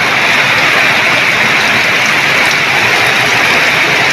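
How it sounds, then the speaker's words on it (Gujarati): Heavy rain pours steadily in a dense, loud, unbroken hiss of drops hitting surfaces on an early morning, with no voices or pauses. "જોરદાર ચાલુ થઈ ગયો છે ગાઈસ વરસાદ ફૂલ"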